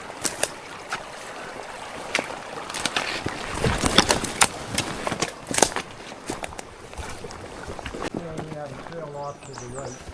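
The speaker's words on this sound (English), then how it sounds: "A little creek crossing." On a trail, a small creek crossing brings sloshing, splashing water and irregular thumps and clatters. Near the end a person's voice is heard over the water.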